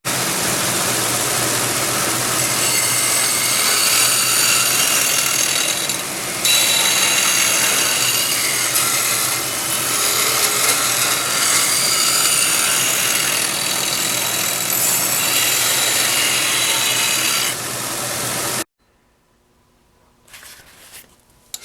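A small angle grinder cleaning up metal motor mount plates, a loud, continuous high whine with rough grinding texture for most of the time, then it cuts off, leaving quiet workshop clatter.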